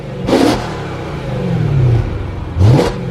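BMW M3 revved twice from roughly ten feet away in valves-closed mode, two sharp, loud blips with a lower swell between them and the exhaust rumbling steadily underneath.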